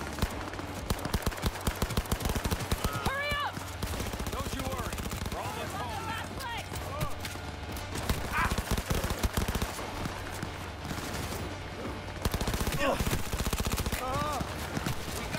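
Bursts of gunfire in the video game Cyberpunk 2077, rapid shots crackling through a busy game mix with music and voices talking over the top.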